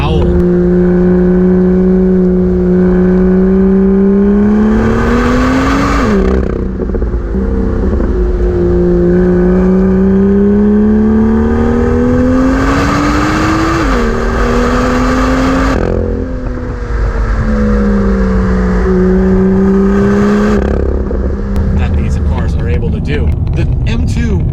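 A BMW M2 engine revs with a melodic, howling tone, climbing through the gears in repeated sweeps with brief shift pauses, loud and close from inside the car.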